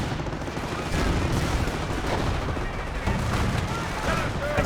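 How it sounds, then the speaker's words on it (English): Panzer Grenadier gunfire in the Company of Heroes real-time strategy game, dense overlapping rifle and gun bursts with booming impacts, loud and continuous under a battle soundscape. "Panzer Grenadier firing away."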